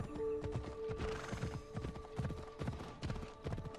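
Rhythmic clip-clop of a horse's hooves drawing near over steady game background ambience in Assassin's Creed Odyssey, with a brief whinny; no talking.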